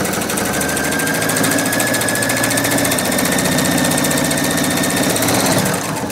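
A sewing machine stitches along the edge of a fabric handle in one continuous, loud mechanical whir with a fast, even rhythm, close up and uninterrupted for the whole stretch.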